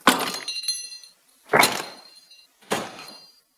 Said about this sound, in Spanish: se choca y suena el sonido de choque